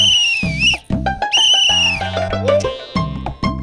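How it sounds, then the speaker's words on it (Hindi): Several loud, shrill whistle blasts sound in quick succession, some long and sliding, some short, with musical percussion and background effects in a Hindi children's fantasy show. "बाबूजी ने 4 सीटी मारी"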